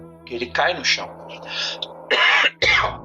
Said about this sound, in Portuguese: Me perdoe pela tosse aí.